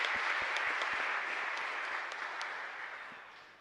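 A church congregation at the Parroquia Santa María de Asunción gives a round of applause, a soft, distant wash of many clapping hands that gradually fades away.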